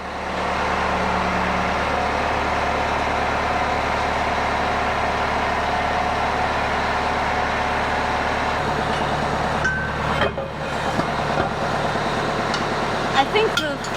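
Kubota LX3310 compact tractor engine running steadily as it drives out pulling a planter, a continuous droning hum with a shift in pitch partway and a few clanks near the end.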